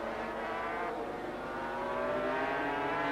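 500cc Grand Prix motorcycles racing at Buenos Aires in 1982, a steady, loud high engine drone with slight pitch shifts as the bikes hold speed, heard alone without commentary.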